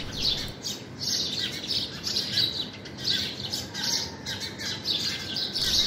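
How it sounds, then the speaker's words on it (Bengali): Busy birdsong, with many bright chirps and squawky calls overlapping continuously against a steady outdoor background. "এরকম সুন্দর পাখির কিচিরমিচির ডাক যারা শুনতে পছন্দ করেন"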